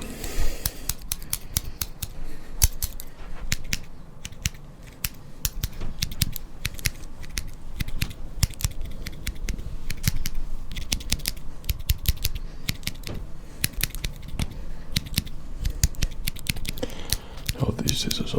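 Barbershop scissors snip in rapid, irregular bursts of crisp metallic clicks, close and steady throughout with a faint background hiss and no talking.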